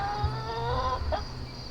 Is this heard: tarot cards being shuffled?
no